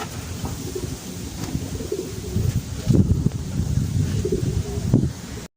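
A racing pigeon coos softly in its loft after returning from a race, low repeated coos over a constant patter of rain, close and moderate in level.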